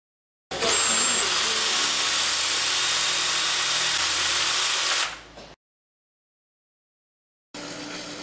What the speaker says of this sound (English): Place the PVC pipe in a vise and cut each piece to fit the measurements.